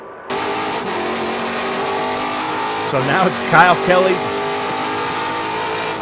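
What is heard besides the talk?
Trans Am race cars racing at Laguna Seca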